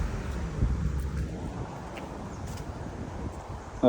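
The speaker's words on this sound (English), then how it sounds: "this wind is really annoying" Wind buffeting an outdoor microphone, a steady low rumbling roar that swells and eases, with a faint voice starting at the very end.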